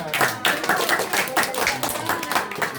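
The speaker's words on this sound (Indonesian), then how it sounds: "Asri, oh tepuk tangan" Children clapping their hands at a home Sunday school gathering, a small group beating out quick, fairly close claps in a loose rhythm with some voices mixed in.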